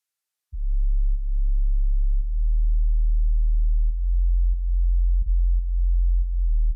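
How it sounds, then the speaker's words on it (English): A pure sine-wave sub bass from the Serum synth, pitched two octaves down with no filter or effects, holds a deep, steady low tone that shifts between notes with brief dips, alone and loud. "In Serum, we have a sine wave taken down by 2 octaves with no filter or effects"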